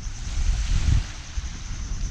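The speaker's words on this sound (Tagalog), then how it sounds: "ito yung beach ng Unisan." Waves on Unisan Sands beach in Quezon Province, a steady close wash of surf mixed with wind buffeting the microphone, continuous and fairly loud, with no voices.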